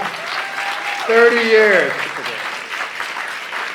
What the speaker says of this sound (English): Can we have a round of applause for Tom Regal?